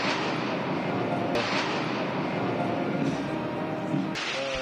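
Nine Patrouille de France jets pass over the Champs-Élysées during the 14 July 2023 parade, a steady loud broadband engine roar filling the clip with a couple of sharp cracks.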